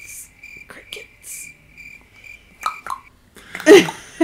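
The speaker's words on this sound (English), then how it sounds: "Crickets. Crickets." Steady, high-pitched cricket chirping pulses on and on in a quiet setting, with a brief breathy vocal burst near the end.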